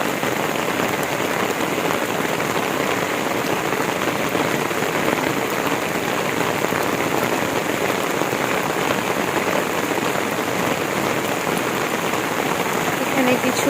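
Steady rain falls on a farm house compound, a dense, even hiss of drops on surfaces that continues without a break, close and moderately loud.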